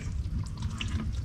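Water running out of a flooded rice field as it is drained, a steady close splashing gush with trickling detail and no talk.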